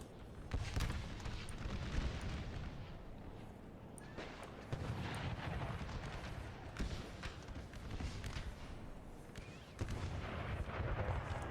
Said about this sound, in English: I have artillery shelling down on them